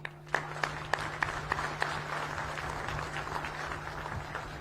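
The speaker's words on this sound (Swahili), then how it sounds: "Tuwape makofi tafadhali." An indoor crowd at a National Defence University graduation ceremony applauds, starting with a few sharp claps that swell into steady sustained clapping, moderately distant, over a faint steady hum.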